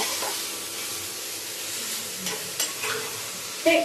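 Fresh green chilies fry in a pan with a steady soft sizzle and hiss, with occasional stirring scrapes and small pops near the end, at a modest volume.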